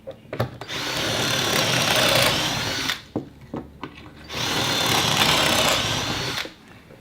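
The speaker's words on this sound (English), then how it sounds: "This is the Kreg tool, which I'm going to use to make my pocket holes" A power drill bores pocket holes in wood through a Kreg pocket hole jig for a toddler helper stand, two loud sustained whirring bursts close by, separated by clicks and handling knocks.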